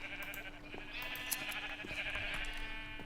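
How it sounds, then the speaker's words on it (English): Sheep bleating in a video game sheep farm, a steady wavering bleat running through the clip at moderate level over a dense game background. "We'll get another blue sheep"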